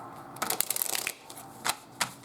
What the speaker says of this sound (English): Let me just shuffle these a little bit here